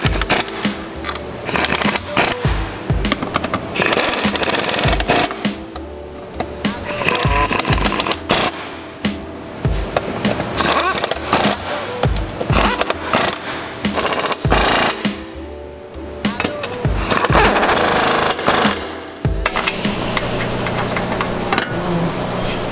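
Bolts on the engine mount of a 2017 Subaru WRX are tightened with a power tool, a loud, sustained mechanical whirring with rapid rattling pulses and brief pauses between bursts.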